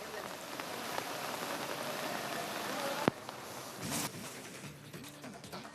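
Heavy monsoon rain pours in Karwar on the Karnataka coast in a dense, steady roar, with a sharp knock partway through and a brief voice underneath near the end.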